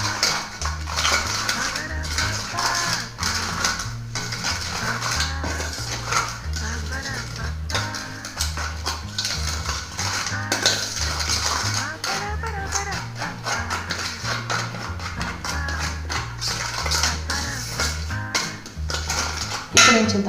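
Fish being mixed with paste in a bowl for Fish 65, with steady clinking and scraping of utensils against the dish over background music throughout.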